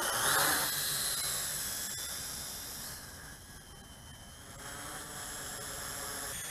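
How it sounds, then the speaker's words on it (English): A WLtoys Q333-A RC quadcopter flies outdoors with a thin, high-pitched motor whine and hiss that swells and fades slightly as it moves, continuous and alone. "let's go for a little FPV flight with the q333-A"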